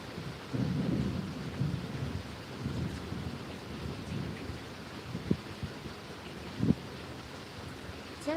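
Loud thunder rumbling in deep, rolling waves with a few sharper cracks, heard alongside rain and wind.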